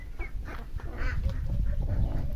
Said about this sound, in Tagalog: Umuhuni na mga kaludi yung sisiw niya.